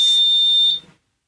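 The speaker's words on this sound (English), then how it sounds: "That was just our driveway alarm." A driveway alarm gives a single loud, steady electronic beep lasting under a second, then cuts off cleanly, with no talk over it.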